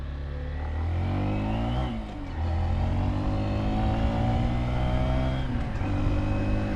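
A Honda mini motorcycle engine revs up while being ridden, climbing in pitch, dipping briefly at a gear shift, then pulling up again, loud and close throughout.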